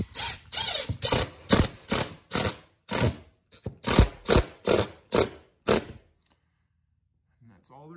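A screw driver ratchets a screw up into a sagging ceiling tile in a series of rapid mechanical bursts, about a dozen pulses close to the mic, then stopping into near silence.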